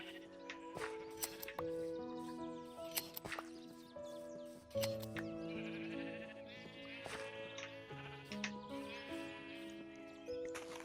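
Sheep bleat repeatedly in Minecraft 1.21 near a player with enchanted shears, clear close bleats recurring over a soft melodic background, without talking.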